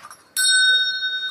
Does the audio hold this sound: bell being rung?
yes